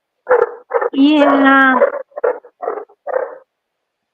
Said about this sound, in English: Pyrenees puppy, though.